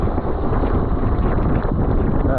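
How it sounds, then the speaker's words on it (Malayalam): Cold wind blowing outdoors near a forest edge and wire fence, a steady loud rushing buffet across the microphone with no speech. "നല്ല തണുത്ത കാറ്റ് കേട്ടോ"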